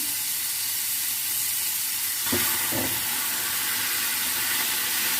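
Chicken frying in a pan gives a steady, loud sizzle and hiss throughout, with two brief scraping stirs near the middle.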